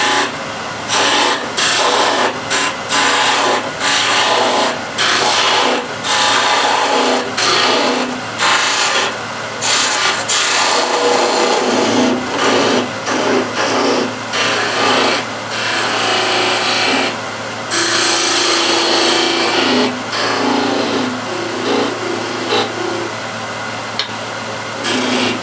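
A turning tool shapes a bead on wood spinning on a lathe, a loud, continuous scraping rasp with rhythmic cutting pulses close up, used in making a wooden coffee or tea container.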